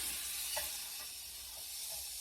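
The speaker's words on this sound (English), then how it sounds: "So I can make sure to sear a little bit of that fat." Roast beef fat searing in a hot, smoking pan gives a steady, even sizzle and hiss with faint stirring or shifting noises. No one speaks.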